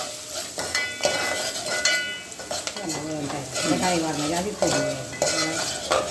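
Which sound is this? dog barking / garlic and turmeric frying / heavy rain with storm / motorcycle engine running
garlic and turmeric frying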